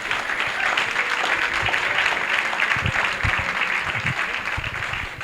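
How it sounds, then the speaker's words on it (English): An audience at a meet-and-greet event applauds a speaker walking to the stage, continuous clapping from a crowd with sharper close claps, fairly loud throughout. "we're giving him a round of applause till he gets to the stage"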